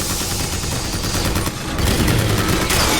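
Sustained gunfire in the video game BioShock Infinite, loud dense rattling bursts that run continuously and grow heavier toward the end.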